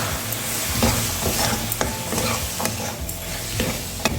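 Fresh peas stirred into sizzling masala and oil in a pan for aloo matar sabzi, a loud, continuous hiss broken by repeated spoon scrapes and clinks, with no talk.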